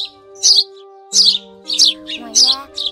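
A recorded Chinese sparrow call is played back as a lure for trapping with nets and glue: four bursts of bright chirps over steady electronic tones.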